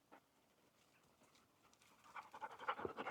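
A dog pants rapidly and close by, the breathy rhythm growing louder toward the end after a near-silent start.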